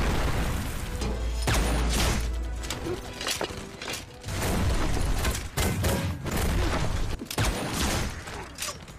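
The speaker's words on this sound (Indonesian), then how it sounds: "Sniper kelompok Devil juga menembak." A chaotic battle rages with dense gunfire, sniper shots and heavy weapons, loud overlapping bursts, booms and crashing impacts that continue without pause throughout.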